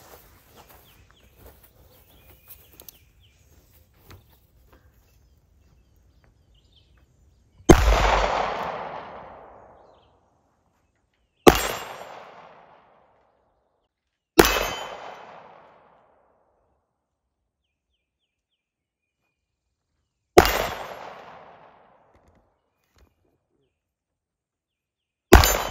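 A Colt Agent pistol is fired at steel targets. After a quiet stretch, five loud, sharp shots ring out several seconds apart, each with a decaying tail.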